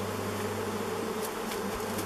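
Dense, steady buzzing of many honey bees inside an old beehive left unopened for more than thirty years, a continuous close drone with a few brief louder passes near the listener.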